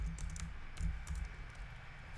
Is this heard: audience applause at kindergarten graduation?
no